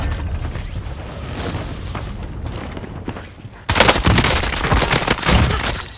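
Rapid gunfire bursts in the Warzone video game, with an MP5 loadout in play: muffled shots at first, then loud, sharp, close volleys of automatic fire.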